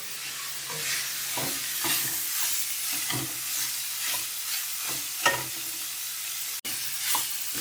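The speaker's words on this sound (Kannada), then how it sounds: "ಒಂದು 2 ನಿಮಿಷದಷ್ಟು ಹುರ್ಕೊಳ್ಳಿ, ಒಂದು ಸ್ವಲ್ಪ ಎಣ್ಣೆಲಿ ಫ್ರೈ ಆಗಲಿ ಅಂತ" Bitter gourd curry (hagalakayi gojju) frying in a little oil, a continuous close sizzle with regular scraping stir strokes and a brief knock near the end, no voices present.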